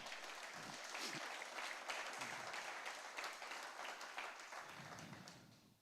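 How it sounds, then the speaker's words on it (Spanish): A church congregation applauding loudly during a sermon, a continuous full wash of clapping from many hands, steady throughout and tapering slightly at the end, with faint voices mixed in. "dale fuerte el aplauso al Señor"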